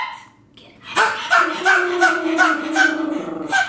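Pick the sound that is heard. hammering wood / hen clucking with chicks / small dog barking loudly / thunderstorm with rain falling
small dog barking loudly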